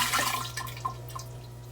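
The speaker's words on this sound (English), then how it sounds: "Empty that honey water right in there." Honey water pours into a container of mead made with caramels and cinnamon, a brief close splash that tapers into light trickles and a few drips.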